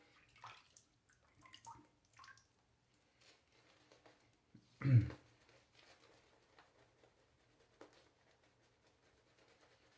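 A quiet trickle and splash of water poured onto glycerin shaving soap in a small container, one brief louder pour in the middle amid faint scraping sounds.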